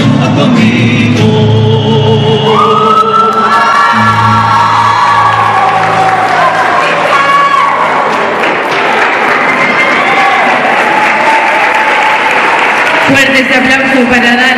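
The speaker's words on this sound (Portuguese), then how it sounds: "Fuertes aplausos para Dana, Fausto, Melissa, Nahuel, Memoria y Esperanza" An audience at a gaucho folk dance gathering applauds and cheers loudly for the folk dancers, sustained clapping with whoops and shouts while voices carry over it.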